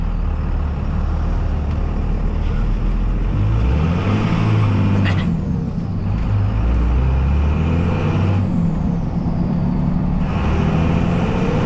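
A second-generation Cummins diesel pickup truck pulls away in second gear on a steep hill with no throttle, producing a loud, steady low engine drone and road rumble that continue throughout.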